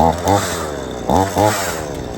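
A chainsaw on a landscaping job runs with a steady, close, buzzing idle while someone shouts loud exclamations over it and a dog named Blue lunges at the saw.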